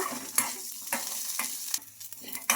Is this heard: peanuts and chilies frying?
yes